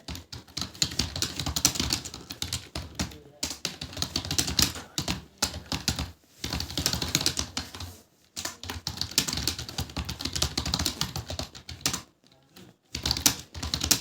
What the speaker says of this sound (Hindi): एक लाइन हम टाइप ही कर देते हैं पूरा